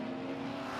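A Porsche 944 and a BMW M3 race on track at a NASA amateur racing event, their engines a steady, sustained drone without a break.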